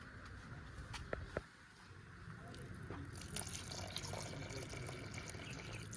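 Milk poured into homemade bael fruit sherbet, a soft liquid splash and trickle that starts midway and runs on faintly after a couple of light clinks at the start.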